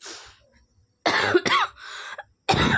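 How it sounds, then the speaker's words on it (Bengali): A woman coughs hard several times in close, loud bursts, with a throat-clearing rasp between them and short pauses. "এত পরিমাণ কাশি পাচ্ছে কি বলবো"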